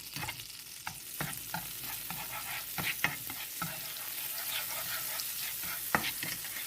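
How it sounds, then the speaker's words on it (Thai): Potatoes stir-fried in butter oil in a hot pan hiss with a continuous sizzle, while scattered spatula scrapes and taps recur at an irregular pace, fairly quiet and with no voices. "ผัดให้มันฝรั่งเขาสุกใส่ลงน้ำมันเนยลงไปเลยนะคะ"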